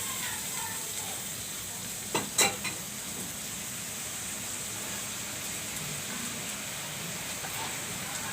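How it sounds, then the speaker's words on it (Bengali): Spice masala of turmeric, chili, coriander, cumin and salt with a little water sizzles and fries in a pan, a steady hiss broken by a couple of brief clatters from stirring. "একটু কষাই নেব মশলাটা।"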